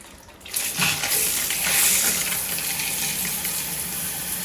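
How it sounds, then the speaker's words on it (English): Water sprays hard from a leaking fitting on a Delta Intuition shower head, starting abruptly and settling into a loud, steady hiss with no talking. "it is leaking right here, and we have tried to hand tighten this fitting here, but it does not stop leaking"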